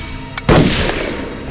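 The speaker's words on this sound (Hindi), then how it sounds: "उसने दूसरी गोली चलाई" A single sharp revolver gunshot cracks out close and loud, preceded by a brief click, then rings off with a decaying echo in a tense confrontation.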